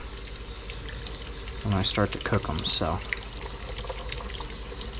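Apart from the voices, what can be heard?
rinsing mushrooms under running water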